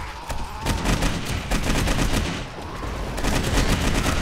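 Rapid bursts of automated turret gunfire from the video game 7 Days to Die, played with the Darkness Falls mod, crackle continuously and loudly, with a short lull in the middle before the shooting picks up again.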